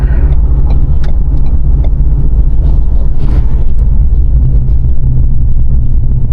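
A Ford Ranger pickup driving on the road, heard from inside the cab as a loud, steady low engine and tyre rumble that runs unbroken, with no talking.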